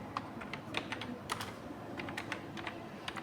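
Keys clatter in quick, uneven bursts as someone types on a computer keyboard during Tally ERP-9 accounting data entry, close and clear with no talking.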